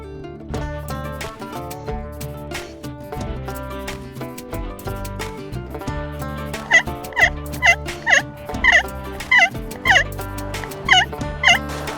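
Turkey calling on a slate call during a fall turkey hunt: a run of sharp, high yelps and clucks in quick bursts, fairly close and loud, rising over a busy background that holds steady tonal music or noise throughout.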